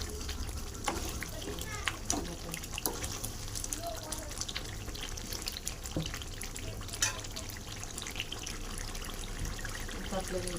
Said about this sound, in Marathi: आपल्याला पाणी पण ह्याच्यात टाकायचं